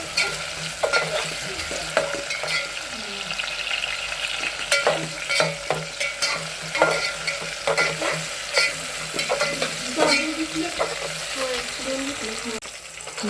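A bay leaf sizzles in hot oil for masala rice, a constant frying hiss broken by frequent clinks and scrapes of a spoon against the pot.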